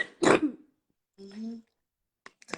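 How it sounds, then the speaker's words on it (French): A woman with flu gives a short, harsh cough, followed by a brief voiced throat sound and a couple of faint clicks. "Je sens qu'elle a mal au cœur quand elle tousse."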